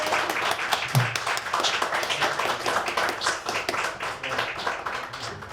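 Audience applause closing an interview with a Dutch filmmaker, a steady wash of many hands clapping at close range, even and sustained from start to finish with no voices over it.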